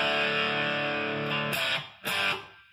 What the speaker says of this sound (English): Hit it heavy and you'll get distortion.